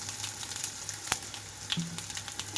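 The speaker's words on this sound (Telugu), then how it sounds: "ఇవన్నీ వేగేటప్పుడే ఇందులోకి కొద్దిగా నలకొట్టి పెట్టుకున్న వెల్లుల్లి రెమ్మలు కూడా వేసేస్తున్నాను." Crushed garlic and asafoetida frying in hot oil, a soft continuous sizzle with small crackles and pops, heard close up and fairly quiet with no talk.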